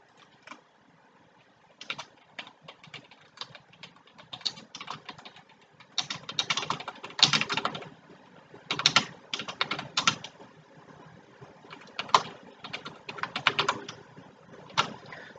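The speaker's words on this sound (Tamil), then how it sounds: "ஒவ்வொரு பிக்சருக்கும் நான் கேப்ஷன்ஸ் நான் டைப் பண்ணிக்கலாம்" Computer keyboard being typed on to add photo captions in a PowerPoint album: quick bursts of close, crisp key clicks with short pauses between them, steady throughout, with no voices.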